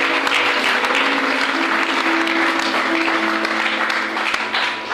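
A church congregation at a Pentecost celebration service applauding steadily. The clapping is dense and sustained throughout, with faint voices and a held note underneath.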